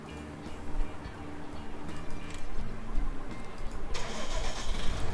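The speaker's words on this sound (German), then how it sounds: "Wir werden mal gleich mal wieder die Fahrzeuge starten für zu Stroh." A farm vehicle engine starts in Farming Simulator 19 on the Marsch map, ready for straw work. It cranks with a ticking churn, then catches and roars into a louder, rough mid-pitched run, with no talk over it.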